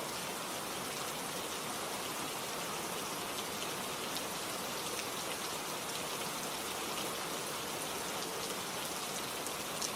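Steady rain falls without a break, a dense continuous hiss of drops with no voices, even and unchanging throughout.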